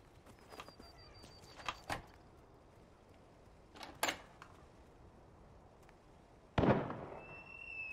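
Gunfire in the online battle royale game CRSED: scattered single shots, some faint and distant, ending in one louder nearby blast with a ringing tail.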